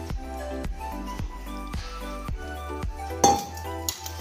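Raw mango pickle ingredients with garlic and raw oil being mixed in a bowl, with repeated rhythmic clinks of a metal spoon against the bowl, about one every half second, then a louder clatter near the end.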